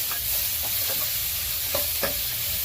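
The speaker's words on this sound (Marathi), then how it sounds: "कढीपत्ता कांदा चांगलं परतून घ्यायचं" Curry leaves and onion are sautéed in a pan, producing a steady sizzling hiss with a few distinct spoon scrapes and stirring knocks near the end, close and unaccompanied by speech.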